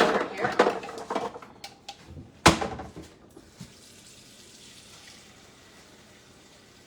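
Water runs from a tap and splashes into a measuring cup, 1.5 cups being measured for an enchilada sauce with tomato paste, with brief clatters of cookware early on before everything goes nearly quiet.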